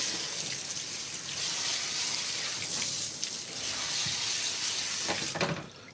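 Warm water runs steadily from a household tap into a sink, a continuous close hiss with small splashy variations and a brief surge near the end.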